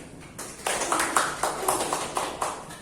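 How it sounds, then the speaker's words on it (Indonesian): Small classroom group clapping during a microteaching lesson on fiqh, a brief burst of rhythmic claps, moderately close, with no voices. "Ya, tepuk tangan."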